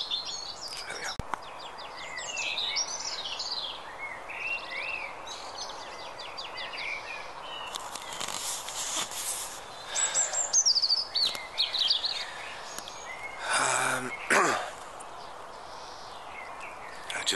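Many birds chirp and trill in a busy, overlapping chorus, some close and others farther off, with soft wind and faint rustling underneath.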